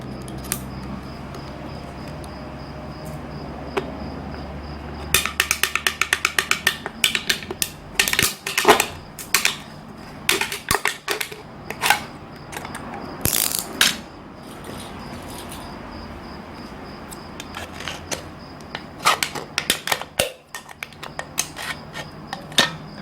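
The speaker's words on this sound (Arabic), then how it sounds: "هنفتح المربع ده باستخدام المشرط" Scalpel scraping and cutting a square out of a thin aluminium soda can, heard as close, dry ticks, scratches and short crinkling bursts in irregular clusters, with brief quiet gaps and no voice.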